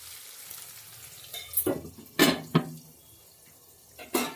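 Potatoes frying in a covered pan over low gas for chicken liver kosha, a soft steady sizzle broken by a few sharp clanks and scrapes of a lid or utensil, close and moderately loud with no talking.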